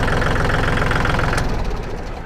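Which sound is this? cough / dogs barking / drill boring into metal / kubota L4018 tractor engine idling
kubota L4018 tractor engine idling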